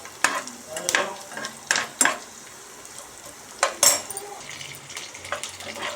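Thinly sliced medium onions fry in a pan on the stove for tomato rice, with a string of sharp spoon scrapes and clinks against the metal over a soft, steady sizzle, close and clear with no talking.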